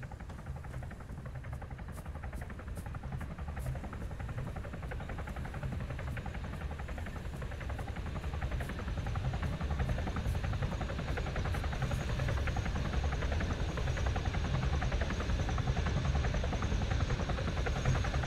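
Helicopter engine and rotor drone during a battlefield medical evacuation, heard as a steady, loud, close whine and throb that fills the whole stretch with no talking over it and swells slightly toward the end.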